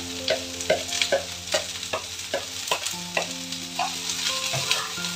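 Okra sautéed with onion and curry leaves in a pan, a constant sizzle broken by rhythmic scraping strokes of a spatula roughly twice a second, close and clear with no talk.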